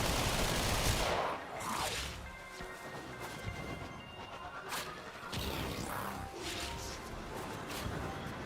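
Rapid bursts of gunfire and impact crashes from the sci-fi shooter Warframe, loud and near, with sharp transients scattered across several seconds over a dense layer of game effects.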